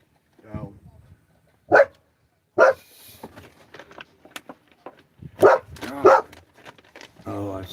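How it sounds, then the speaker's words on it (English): An Irish setter gives several short barks and yips in separate bursts, fairly close. People talk between the barks. "There's an Irish setter over here."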